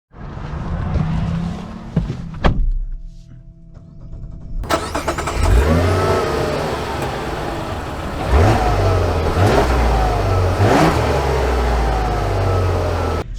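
A 2024 Mazda CX-90 High Output starting up and driving off, engine revving and accelerating with rising pitch through several gear shifts, loud and close inside the cabin, no talk.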